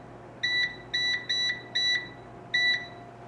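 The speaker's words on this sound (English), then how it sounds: "I'll set my timer for 40 minutes" Kitchen oven timer beeping five times in short, evenly spaced bursts, each a bright double-toned electronic beep, clear and close over a faint steady hum, with no talking.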